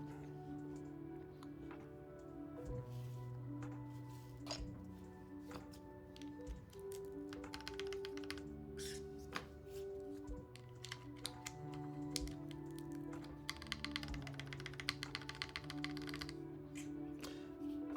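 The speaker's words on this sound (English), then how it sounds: "about to put some caps on, and then we will do a typing test" Fast, continuous key clicks of typing on a green Alice-layout mechanical keyboard, fairly close and quiet, with occasional heavier thocks among the rapid patter.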